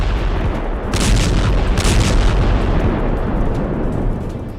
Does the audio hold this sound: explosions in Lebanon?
yes